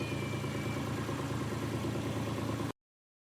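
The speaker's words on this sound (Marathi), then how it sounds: "मित्रांनो, आता मी ट्रॅक्टर राईड अनुभवणार आहे" A farm tractor's engine runs at a steady low, chugging idle-like rumble during a ride, moderately faint and continuous until it cuts off abruptly.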